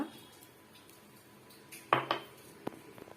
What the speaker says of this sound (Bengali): এগুলোকে সব একটা একটা করে আমি এই বোলের মধ্যে রাখবো এবং মিক্স করব